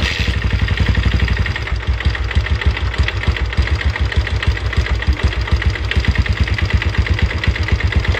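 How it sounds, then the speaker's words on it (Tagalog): A Yamaha SZR motorcycle with a racing camshaft idles close by, its engine thumping in a fast, steady, loud rhythm with a metallic clatter running through it and no pauses. "Yan po yung tunog ng racing camshaft na nakakabit."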